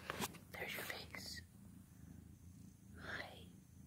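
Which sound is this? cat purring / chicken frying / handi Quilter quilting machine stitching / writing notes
cat purring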